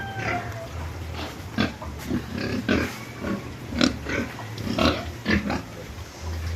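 Pigs grunting and oinking on a farm, several close, loud grunts in an irregular rhythm over a steady low rumble of livestock noise, with no one talking.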